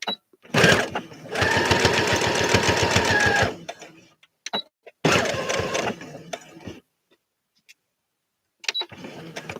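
A sewing machine stitches bias binding in two close, loud runs, a long one and then a shorter one. Clicks and quiet handling noises fill the pauses between them.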